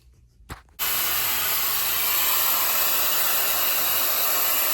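After a short quiet moment and a faint thump, a hair dryer used on a pet dog after a bath switches on and blows a loud, steady rushing hiss for the rest.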